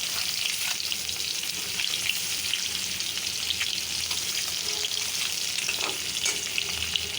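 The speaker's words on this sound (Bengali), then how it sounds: "হাঁসের ডিম ভুনা করব, তাই ডিমগুলি ভাজলাম কড়াইতে একটু লাল লাল করে" Duck eggs frying in oil in a wok until browned, giving a continuous, even sizzling hiss close by that holds steady throughout with no speech.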